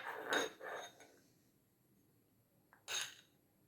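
A metal spoon clinks against a glass or bowl while honey is stirred into ginger juice, two short bright clusters of clinks at the start and another near the end, close and clear in a quiet kitchen.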